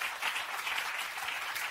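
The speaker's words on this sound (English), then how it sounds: "I said you can clap your hands" A church congregation claps hands during a lively worship service, a dense continuous patter of many hands heard on its own without talk, fairly soft and even throughout.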